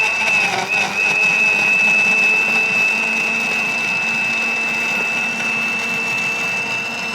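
A kitchen blender grinding herbs with honey runs continuously with a steady motor whine and a faint churning of contents inside, close and fairly loud.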